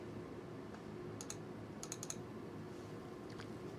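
A computer mouse gives a few faint, crisp clicks: a pair near the start, then a quick cluster of three or four. A low steady room hum sits underneath.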